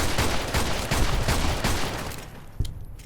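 Gunfire from a newly acquired gun in the video game Fallout: New Vegas, a dense, loud run of repeated shots that fades off, then one last sharp report.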